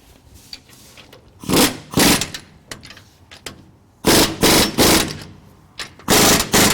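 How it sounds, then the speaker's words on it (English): Ratchet or impact wrench tightening a U-bolt during an SS800 trac bar install, heard as loud bursts of rapid rattling in several separate runs with quieter pauses between them. "now I'm going to go ahead and finish tightening this U-bolt"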